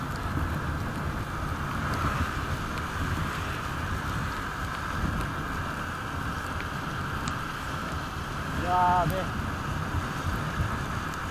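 Steady rain and rushing wind noise roar continuously around a moving motorcycle, with someone briefly speaking near the end.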